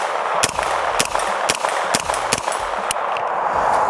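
Repeated gunshots from an AR-9 pistol-caliber carbine fitted with a pistol brace, about eight sharp reports at irregular intervals of roughly half a second, loud and close over a steady background hiss.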